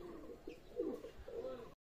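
Pakistani pigeons coo softly in a few low, rounded calls, close by, with a brief pause between them.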